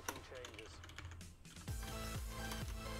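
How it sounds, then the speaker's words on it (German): Rapid clicking of computer keyboard keys, close and moderately loud, comes in a quick burst of typing while a person speaks briefly before it. "Jetzt bin ich gerade so blöd zum Tippen"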